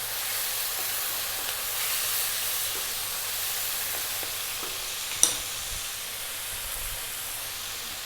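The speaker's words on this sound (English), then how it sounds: "I'm now going to add some soy. I'm going to use a light soy." Light soy sauce hits a hot wok of garlic tofu fried rice, a steady broad sizzle with hissing steam, close and even, and a single sharp clank partway through.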